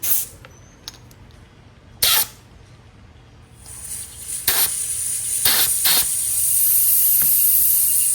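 Air hissing out of a motorcycle tire through a deflator, a steady rising hiss that swells and holds, broken by a few sharp clicks and short bursts nearby.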